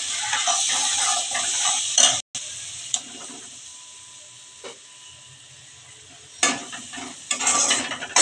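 Spices cooking with tomato and water in a pan make a bright hissing sizzle with occasional stirring knocks. A quieter stretch with faint bubbling follows, then the sizzle returns louder near the end. No one speaks.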